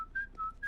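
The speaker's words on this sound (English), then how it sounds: "you don't whistle when you're sad" A person whistles a short tune of a few clear, sustained notes with brief pauses between them, close and alone with no talk.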